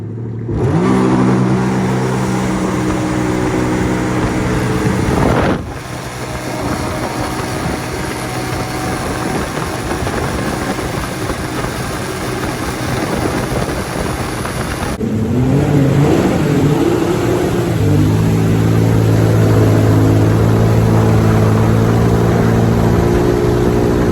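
A Jeep Wrangler Rubicon 392 V8 revs hard as the throttle is floored, a loud sustained engine roar that dips briefly and then climbs again with rising tones, with no voices over it.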